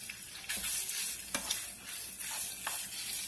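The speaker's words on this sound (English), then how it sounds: "now I'm gonna add the steak." Thinly cut steak frying in a pan, a quiet steady sizzle interrupted by several sharp scrapes and taps of a utensil as the meat is moved, close-up and fairly soft, with no one speaking.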